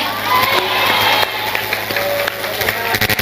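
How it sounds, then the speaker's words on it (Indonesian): An audience at an Islamic religious lecture gathering claps and cheers, a dense, loud wash of applause mixed with crowd voices and shouting that fills the whole moment. "Tepuk tangan dulu"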